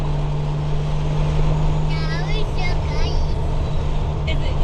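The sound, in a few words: Lexus IS300 with 1JZ engine, loud turbo and exhaust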